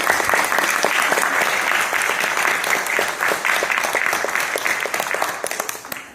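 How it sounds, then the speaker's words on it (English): A student-and-panelist audience applauds together at the close of an evening panel on internships and research, a dense, steady wash of many hands clapping at once, loud and sustained before tapering slightly at the end. "Let's give all of ourselves a round of applause."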